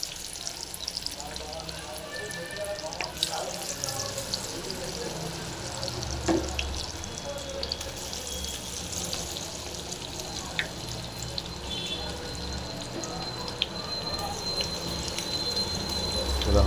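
Cauliflower 65 pieces deep fry in hot oil, a steady bubbling sizzle running continuously at moderate level with occasional brighter pops and crackles.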